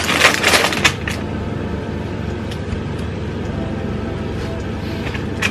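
An air fryer runs in a home kitchen during cake baking, giving off a continuous broadband whir and hum that stays steady throughout, with a few brief sharper clatters near the start and no talking.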